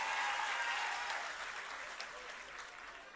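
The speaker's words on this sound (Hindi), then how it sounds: "बाबूलाल जी के लिए ताली बज" An audience at a Madhya Pradesh chief minister's public event for Vimukti Diwas claps together, a dense patter of applause that fades slightly toward the end, with no speech over it.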